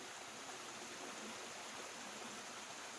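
Water at Two Mile Creek rushes continuously over waterfalls and along the stream, a steady broadband hiss that fills the air evenly at moderate distance with no voices.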